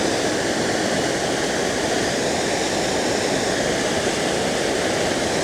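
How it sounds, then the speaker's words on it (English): Foster Falls, an autumn waterfall flowing well, pours in a loud, steady, unbroken roar of rushing water heard up close with no talking. "This is an awesome waterfall. It's flowing pretty good today."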